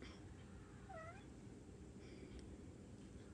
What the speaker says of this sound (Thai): แมวเรียกร้องความสนใจอีกแล้ว